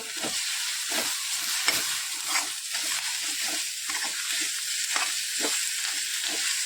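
Coriander being stirred into a frying, sizzling eggplant bharit in a pan, with a steady hiss of frying oil and repeated scraping stirs at a regular rhythm, close and alone with no talking.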